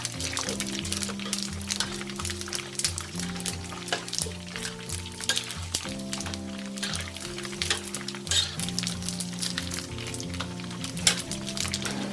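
Pork skin cracklings fry in hot oil, giving a steady, dense sizzle with fine popping and bubbling throughout, moderately loud and close, with no talking.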